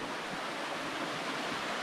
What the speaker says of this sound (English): Now I'm listening also to water from here